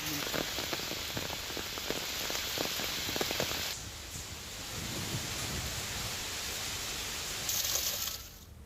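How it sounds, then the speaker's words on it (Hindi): Heavy rain from Cyclone Yaas pours steadily in Chhapra, a dense continuous hiss of drops on surfaces with spattering close by, easing slightly partway through before rising again, with no voices. "छपरा में यास तूफान की वजह से तेज बारिश हो रही है"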